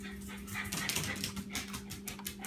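A dog whimpers and gives a few soft yips close by, short and restless, over a low steady hum.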